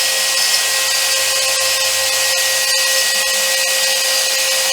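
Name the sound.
Sainsmart CNC 4040 Pro with Rotozip spindle cutting at 20,000 RPM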